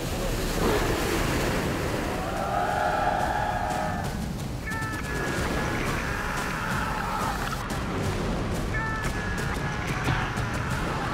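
Rough ocean waves crashing and surging continuously along a shore, with steady wind noise buffeting the microphone and a few faint higher sounds in the background.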